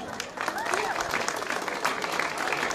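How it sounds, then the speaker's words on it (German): An audience breaks into applause at an autumn festival at FH Campus 02, a dense burst of clapping that carries on steadily while voices from the crowd mix in. "Bitte einen Applaus."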